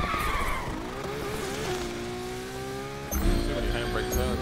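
Tires squeal loudly through repeated handbrake turns in a LaFerrari during a Need for Speed Unbound race, a long sliding screech with a revving engine underneath and a fresh skid near the end.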